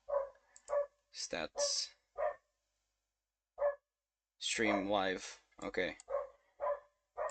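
A dog barks and yelps in a room during a live stream, with short sharp bursts and one longer drawn-out cry mixed among a person's intermittent speech.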